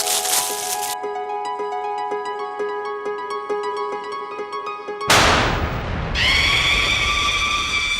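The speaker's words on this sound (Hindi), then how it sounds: "एक छोटा सा पटाखा रख देना" Gentle chiming music plays, then a small firecracker goes off with a sharp bang and a brief crackling burst, followed by a ringing tone, in a sitcom scene.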